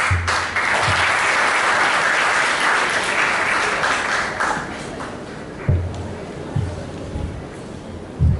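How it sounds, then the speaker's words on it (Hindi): An audience at a college lecture on the Indian New Year bursts into dense, loud applause that holds for several seconds, then thins out into scattered claps and a few thumps. "पूरा सुनने के बाद ताली बजाइए।"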